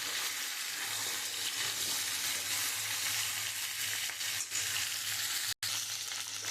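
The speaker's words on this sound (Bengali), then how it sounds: "আমি একটু লাল লাল করে ভেজে নেব।" Pieces of taro (gati) frying in hot oil for a prawn curry give a steady, dense sizzle that runs unbroken and fairly close, with one brief dropout near the end.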